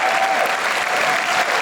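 Applause from a stand-up comedy audience, a loud dense burst of clapping lasting under two seconds with no speech over it.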